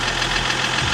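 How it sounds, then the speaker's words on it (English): A worn, high-mileage scrap diesel car engine knocks at idle with a loud, rapid, even clatter close by, continuous and without talk. "That's a diesel knock though."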